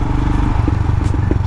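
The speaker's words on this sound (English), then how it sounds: "it's a long stroke 411cc engine" Royal Enfield Himalayan motorcycle with a long-stroke 411cc single engine, idling steadily and loud up close with a continuous low, evenly pulsing thump and some mechanical clatter, alone with no talking.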